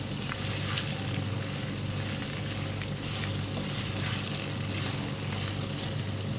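Sliced okra stir-fried with onions in a pan, a continuous moderate sizzle with soft crackling and faint stirring, no voices.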